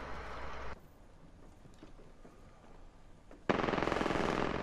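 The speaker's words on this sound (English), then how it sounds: "They're on top of the building shooting the guys that just dropped down." Automatic gunfire in the video game Apex Legends, a rapid burst of shots at the start, a quieter stretch of distant pops, then another loud sustained volley at the end.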